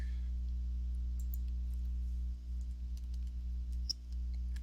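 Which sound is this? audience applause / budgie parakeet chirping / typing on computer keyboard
typing on computer keyboard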